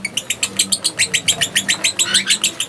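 Fischer's lovebirds in an aviary give quick, bright chirps in a fast, regular series of repeated calls that are close and fairly clear, with a faint low murmur beneath.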